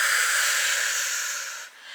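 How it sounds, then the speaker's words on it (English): A person exhales audibly in one long, breathy hiss that slowly fades, then a faint start of the next breath, close to the microphone and without talk. "breathing in and out"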